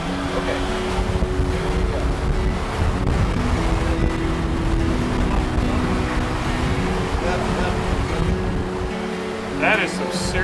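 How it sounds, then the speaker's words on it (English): Strong wind buffets the microphone aboard a sailboat moving at about 8 knots through waves in the Exumas, a steady roaring rush throughout with water and hull noise underneath. "That is some serious wind."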